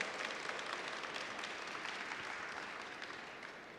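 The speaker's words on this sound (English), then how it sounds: "A big round of applause to Bevan for being here." Distant, faint applause from the crowd at a mayoral swearing-in ceremony for city board appointees, a soft continuous patter that slowly tapers off.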